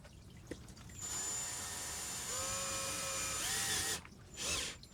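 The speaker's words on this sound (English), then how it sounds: "we're just going to start drilling a hole" A power drill whirs steadily for about three seconds, its pitch shifting slightly as it bores, then stops, followed by a brief second burst.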